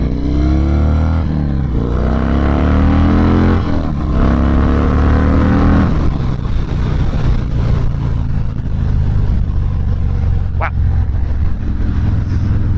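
A Harley-Davidson Dyna Low Rider S motorcycle revs hard and accelerates, its loud engine note climbing through gears before settling into a strong roar with steady wind rush.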